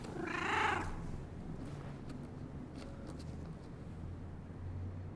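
A cat in the video game Indiana Jones and The Great Circle gives one close meow, then settles into a faint, low, steady purr over a quiet room ambience.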